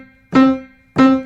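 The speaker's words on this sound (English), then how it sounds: "the piano sounds like this" Two separate piano notes struck without the sustain pedal, each a clear attack that rings briefly and is damped quickly, with a short silent gap between them.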